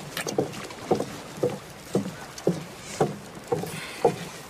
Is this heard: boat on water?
yes